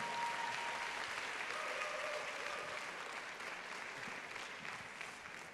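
A crowd at the Miss Gibraltar pageant applauds steadily for several seconds, sounding dense but somewhat distant and soft.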